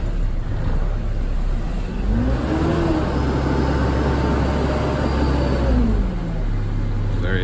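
A Nissan Atlas fire truck's engine runs close by after a cold start, holding a continuous low rumble. Two slow swells in pitch rise and fall over the steady idle.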